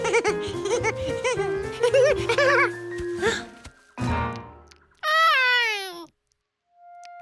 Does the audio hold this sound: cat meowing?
yes